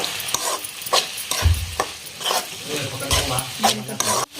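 Sprouted moth beans being stirred into a cooking mixture in a North Karnataka home kitchen for Nag Panchami, with soft scraping and stirring strokes and a few dull knocks of spoon on pan, under occasional talk.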